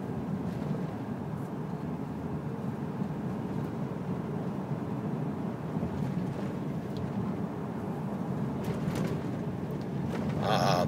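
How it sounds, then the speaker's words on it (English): Interior road noise from a 2005 blue Ram pickup truck driving over a potholed, badly patched road, a steady loud low rumble throughout with occasional thumps and a brief louder bump near the end; no talking. "this road here is just completely trashed with potholes and bad repairs and everything, so let's listen and see if you hear any rattling on bad road"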